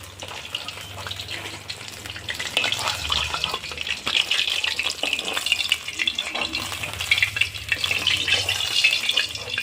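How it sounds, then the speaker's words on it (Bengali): Pieces of katla fish fry in oil in a pan, making a dense crackling sizzle that grows louder and stays steady throughout. "মাছগুলো ভাজা হয়ে গেছে এখন আমি নামিয়ে নেব"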